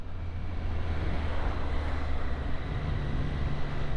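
A Triumph Street Triple 765 RS motorcycle being ridden, heard as a steady engine drone with shifting pitch, buried under heavy, continuous wind rush across the microphone.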